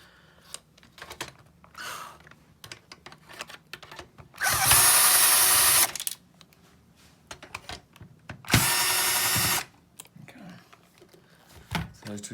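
A power screwdriver whirs in two sustained bursts, about a second each, backing screws out of the top guide on a Toshiba 4540c copier during thermistor cleaning, with small handling clicks and taps around it.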